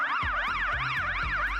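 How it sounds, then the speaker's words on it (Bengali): Fire truck siren wailing in a fast rising-and-falling yelp that repeats several times, loud and close, with low horn-like blasts beneath. "হ্যাঁ, ওটা ছিল একটি ফায়ার ট্রাকের শব্দ।"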